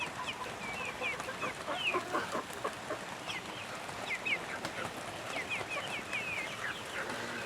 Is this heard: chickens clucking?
yes